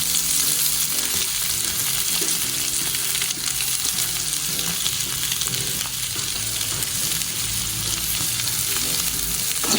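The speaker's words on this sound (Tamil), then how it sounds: "பெரிய வெங்காயத்தை நல்லா வதக்கணும்." Large onions sizzle loudly in hot oil, a constant close frying hiss with occasional stirring scrapes and no speech.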